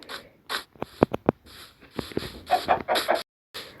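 A video game chicken in Minecraft clucks in short, choppy bursts, several quick clucks in a row, close and fairly loud, with brief pauses between.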